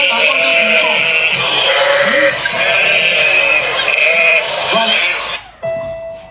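A flock of sheep bleats almost without pause, many overlapping wavering cries close by, with human voices mixed in, until the sound stops abruptly near the end.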